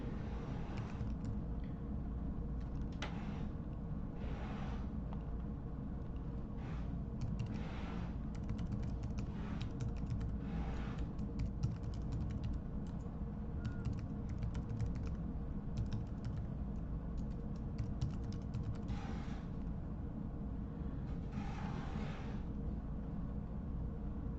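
Steady typing on a computer keyboard carries on for the whole stretch, dense runs of close, quick key clicks over a constant low rumble of background noise.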